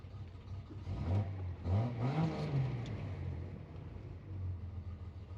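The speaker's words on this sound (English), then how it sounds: "Good sounding motor." A 1973 Datsun 240Z inline-six with headers and a small cam runs close by after a warm start, its engine note swelling in a couple of rev blips over a steady lopey rumble, with no talking.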